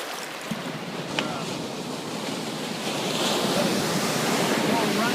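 Ocean waves wash onto a beach in a continuous rushing surf mixed with wind, the sound growing fuller and louder toward the end, with no talking.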